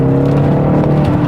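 The 4.4-litre bi-turbo S63 V8 in a BMW X5M revs after a downshift, giving a loud, close, deep engine roar with a steady droning pitch and no voices over it.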